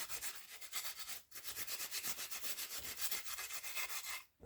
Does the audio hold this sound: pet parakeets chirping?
no